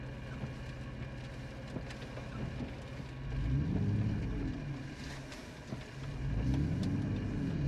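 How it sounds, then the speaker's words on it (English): Cars pass on a road during a storm chase, two vehicle swells rising and fading fairly close against a steady background rumble, with no talk. "We're gonna wait, let these cars pass."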